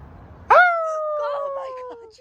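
A dog gives one long, loud howl nearby, sliding slowly downward in pitch for about a second and a half after a quiet start, with no talk over it.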